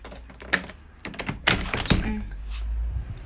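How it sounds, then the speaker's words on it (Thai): A door is opened with several clunks and knocks, then a brief squeak, close by. "เปิด ประตู แอดแอดออกมา"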